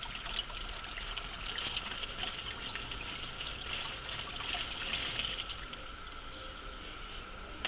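Water pours steadily into a camp seat that doubles as a roughly four-litre container, a continuous close trickle and splash that holds level with no break.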